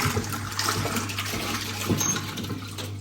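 A 1958 Hotpoint Empress washing machine mid-wash, water sloshing and churning steadily with a low constant motor hum beneath, a few soft splashes, no voices.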